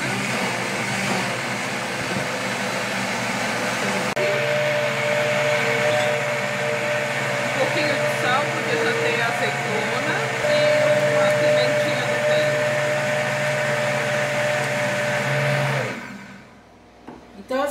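A blender runs steadily and loudly, whirring through olives, Greek yogurt and other pâté ingredients under a lid, then cuts off abruptly near the end.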